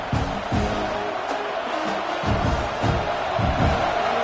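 Stadium crowd roar from College Football 26, a steady broad wash of noise with rhythmic swells late in the fourth quarter as the home fans rally behind the defense, loud and continuous.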